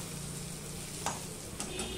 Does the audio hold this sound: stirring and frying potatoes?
yes